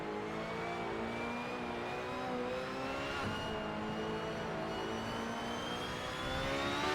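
A Lotus Exos T125, a 2010-era Formula One style car, drives at the Nürburgring Nordschleife in a racing game, its high-pitched engine holding a steady whine that slowly climbs, rising again near the end.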